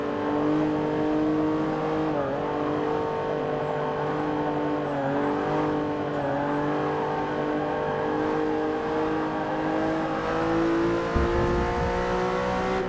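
Porsche 911 Turbo S engine in the racing game Forza Motorsport 6, a steady high-revving drone with brief dips at gear shifts, heard continuously and loud from the cockpit with no talking.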